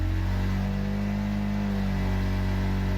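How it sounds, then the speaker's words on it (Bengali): A motorbike engine hums in a continuous, even drone while riding out on a deserted road at night, with no talking. "বাইকটা নিয়ে বেরিয়ে পড়লাম।"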